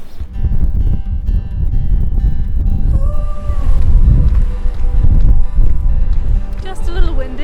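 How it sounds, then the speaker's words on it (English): Blustery wind rumbles and buffets the microphone outside a caravan in Westport, New Zealand, a heavy low roar with gusts, while someone talks and a faint tone briefly sounds. "Just a little windy."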